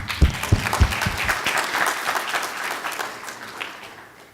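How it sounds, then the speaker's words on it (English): Audience at a closing plenary of a workshop breaking into applause, a few sharp close claps at first, then a dense steady clapping that slowly fades. "So big applause to her."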